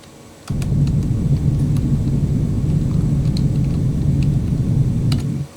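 Steady low roar of a rocket engine during a suicide burn landing on Minmus in Kerbal Space Program, kicking in abruptly, holding loud and even for about five seconds, then cutting off.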